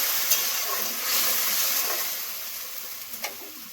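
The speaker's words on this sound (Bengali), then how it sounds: "ভেজে নেব।" Ground spices and salt frying in a pan for a vegetarian curd and bitter gourd curry, giving a steady close sizzle and hiss with a few small crackles.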